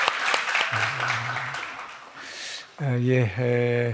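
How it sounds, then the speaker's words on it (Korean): A church congregation at a Korean Sunday worship service applauds, a burst of mixed clapping at the start that carries on faintly beneath a voice as he speaks. "우리 찬양을 받으신 주님께 감사와 영광의 박수 올립니다"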